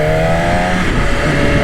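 A 2021 BMW S1000RR superbike engine revs up nearby, its pitch rising and holding in a steady droning roar.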